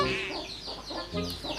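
A chicken clucks in a quick, repeated series of short calls, fairly close but moderately quiet, over a busy background of ambient noise.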